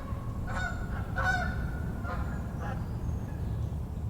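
Several Canada geese honk repeatedly in a loose, overlapping series as they fly overhead, moderately distant, over a steady low rumble of background noise.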